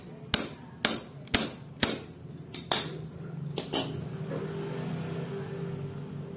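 Seven sharp metallic strikes ring out close by, metal pliers hammering a bent tooth on a thread-type freewheel bike cog in a loose rhythm, followed by a quiet low hum.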